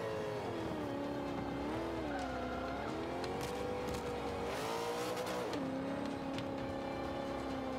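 A GMC van lapping a race track in the Forza 5 video game, its engine droning and rising and falling in pitch as it accelerates and eases through turns, with a brief surge of revving midway, continuous and alone without talk.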